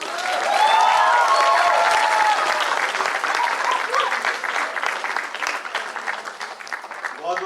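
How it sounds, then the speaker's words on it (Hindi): A theatre audience at a children's play gives loud, sustained applause for a circus ringmaster, a dense steady wash of clapping that holds for several seconds, with some cheering and voices mixed in. "रिंग मास्टर के लिए आप तालियां बजाइए"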